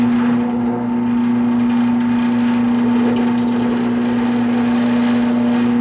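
A Wen 4210 drill press runs while boring through a piece of wood, giving a steady motor whine with a strong constant hum and light cutting noise, close and alone.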